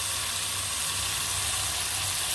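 Chopped tomatoes frying in a pan with a spoon stirring through them give a continuous, even, bright sizzle at close range, with no voices.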